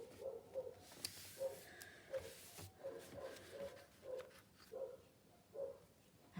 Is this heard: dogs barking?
yes